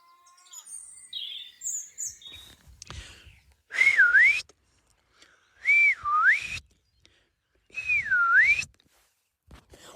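A person whistles an imitation of a lapwing (green plover or peewit) call, three separate rising-falling wavering whistles spaced a couple of seconds apart, clear and close, after some faint earlier chirps.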